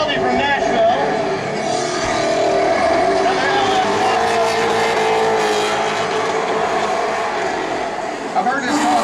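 Drift cars sliding around a track at a drifting show, a loud sustained engine roar mixed with tire noise that holds steady for the whole stretch, with a voice faintly underneath.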